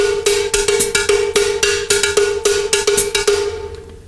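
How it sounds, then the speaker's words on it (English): A cowbell played in a Latin pattern rings out in sharp, bright metallic strikes, loud and close, in a steady syncopated rhythm. "let's play a Latin part on the cowbell"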